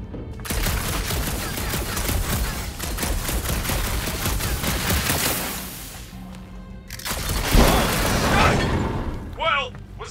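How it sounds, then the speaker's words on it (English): Gunfire in the video game Marvel's Guardians of the Galaxy, rapid sustained bursts of shots with booming impacts that break off, then resume amid effects while characters talk. "I shot something, like you said."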